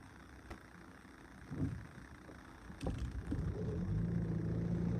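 Interior of a car being driven on a cold day, a low steady engine and road rumble that swells toward the end, with a few faint knocks and no talking.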